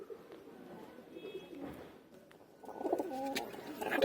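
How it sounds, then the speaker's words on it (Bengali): Freshly caught pigeons at the Beldanga market coo in low, rolling phrases, soft at first and then louder and nearer, over faint market background noise. "দেখুন এই পায়রা, দেখুন সবে ধরা পায়রা"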